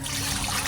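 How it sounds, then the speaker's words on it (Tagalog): Water pours steadily from a container onto pig intestines being washed for plant fertilizer, a close, continuous splashing trickle with no talking. "lalagyan lang po natin siya ng tubig."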